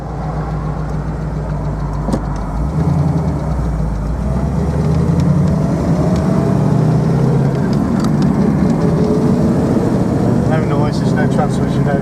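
A 1966 Sunbeam Tiger Mk 1 V8 classic car pulls away in first gear, fairly high geared, with a steady, loud mid-pitched engine drone and low rumble throughout, while someone talks over it.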